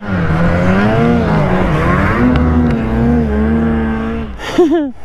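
A Ski-Doo snowmobile engine revs hard and close during a wheelie in deep snow among trees, a loud, sustained droning roar that rises and falls in pitch before easing off at the end.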